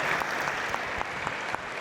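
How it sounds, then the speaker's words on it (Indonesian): Audience applause for a professor guest at a talk event, steady and dense throughout the short stretch, with a few sharper claps standing out near the front. "Kita berikan tepuk tangan dong."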